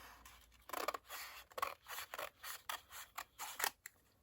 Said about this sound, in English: just going to take my big scissors and I'm just going to cut that.